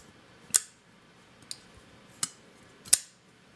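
A Tom Mayo Persian flipper pocketknife blade flicks open and snaps shut, making four subdued, crisp metallic clicks about a second apart, close by in a quiet room with no voices.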